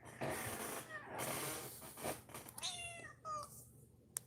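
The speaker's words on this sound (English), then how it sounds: "Who doesn't love a black kitty?" A black cat meows several times nearby, short rising and falling cries, with a person speaking quietly in between and soft rustling.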